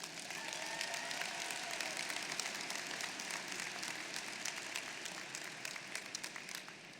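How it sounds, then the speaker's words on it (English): Audience applause at a university undergraduate commencement ceremony: dense, sustained clapping from a large crowd, steady for several seconds before easing off slightly at the end. "Please give them a round of applause."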